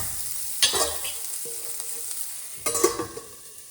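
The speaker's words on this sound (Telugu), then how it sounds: "నేనైతే మూత పెట్టుకొని అప్పుడప్పుడు కలుపుకుంటూ బాగా మగ్గనిస్తామండి." Tomatoes cook down in oil in a pot for a Rayalaseema-style pachi pulusu, a steady soft sizzle broken by a few scraping stirs of a spoon against the pan.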